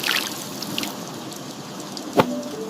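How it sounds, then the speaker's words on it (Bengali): Gentle rain patters steadily in an Islamic cartoon, a soft hissing wash of drops with a brief louder splash near the end, no voices over it. "যখন এমন সুন্দর বৃষ্টি নামে তখন আমাদের একটি বিশেষ দোয়া পড়া উচিত।"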